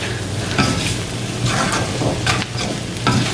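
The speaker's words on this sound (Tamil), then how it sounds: "இடக்கடை வந்து மிக்ஸ் பண்ணி மிக்ஸ் பண்ணி விடுங்கோ" Jackfruit seeds and dried anchovies frying in a pan, a continuous close sizzle broken by repeated scraping stir strokes at irregular intervals.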